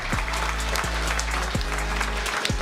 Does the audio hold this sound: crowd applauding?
yes